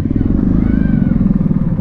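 A motorcycle fitted with a decat exhaust pipe rumbles steadily and loud up close, a continuous throaty drone with fast pulsing throughout, while a voice talks over it.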